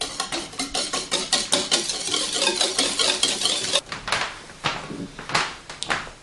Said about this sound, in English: To that I'm going to add 1 beaten egg, 1 egg that I beat, just there. I'm going to whisk this.